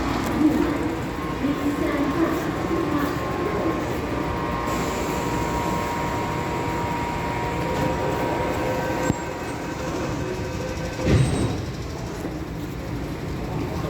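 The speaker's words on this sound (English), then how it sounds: "we'll wait for the train to leave" An MTR Tung Chung Line A-Train (Z809) pulling out of Nam Cheong station, a continuous rumbling hum of motors and wheels with a brief squeal and clunk late on, heard from inside.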